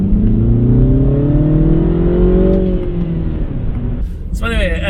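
MINI Cooper S launched hard in sport mode, engine note rising loudly as it accelerates from inside the car, then easing off, with a short burst of voice near the end.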